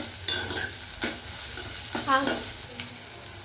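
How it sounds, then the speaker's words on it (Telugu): Green chillies fry and get stirred in a pan for a tomato fenugreek curry, a close, continuous sizzle broken by several scraping strokes of the spoon. "ఇప్పుడు ఇవి కొంచెం ఫ్రై అయినాక పచ్చిమిర్చి వేసుకోవాలండి. ఇప్పుడు ఇవి రెండు ఫ్రై కావాలండి."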